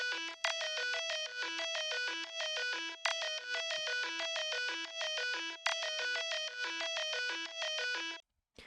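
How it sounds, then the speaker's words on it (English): A synth sine wave with a pitch envelope, distortion and a thin high-passed phone-style filter plays a fast repeating stepped melodic pattern in bright loops, alone, stopping abruptly near the end. "This is a sine wave that's got a pitch envelope on it."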